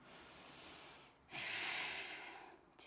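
Deep, slow breathing during a yoga stretch on a mat, a soft airy exhale followed by a stronger drawn breath, close and alone with no talking.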